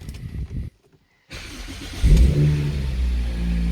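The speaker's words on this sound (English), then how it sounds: "We're going to start up the car now." A 2005 Toyota Celica GT VVTL-i engine cranks and catches after a brief silence, then revs up loudly and settles into a steady, close idle rumble.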